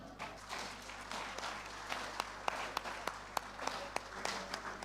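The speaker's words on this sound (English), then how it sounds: "I want another round of applause for Engineer To" Applause from the audience at a Nigerian engineering conference plenary session, faint and distant, with scattered sharper claps over a steady low hum of the room.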